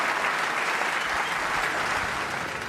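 Sustained loud applause from a packed Crucible theatre snooker crowd greeting Ronnie O'Sullivan, a dense even roar of clapping with no breaks.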